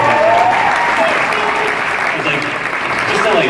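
A large crowd at an Anime Expo panel breaks into steady, loud applause that holds through the whole stretch, with cheering and voices mixed into the clapping.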